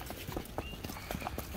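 Horse hooves clip-clop in an irregular, fairly close rhythm on hard ground at Ham House in Richmond, London, with faint background sounds around the steps.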